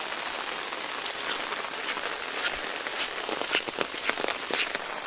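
Heavy monsoon rain pours beside a small pond, a dense, loud, steady hiss of drops pattering on surfaces, with sharper splashes scattered throughout and no voices.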